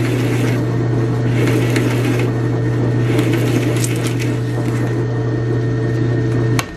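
Drill bit boring down through a wooden push-stick workpiece and tearing out its bottom face, a steady close machine whine with gritty rasping bursts throughout, ending abruptly.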